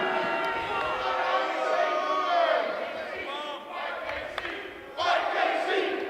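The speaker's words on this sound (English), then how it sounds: "Crowd breaking out in a Fight Casey chant, showing their loyalty to their hometown." A wrestling crowd in the hometown of the wrestler Casey chants "Fight Casey" in loyal support, a loud, sustained roar of many voices that swells and pulses steadily throughout.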